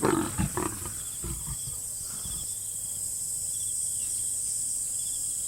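Big cats roaring and snarling during a tense, savage mating, a few loud guttural bursts in the first two seconds, then a steady background drone of insects and wild ambience.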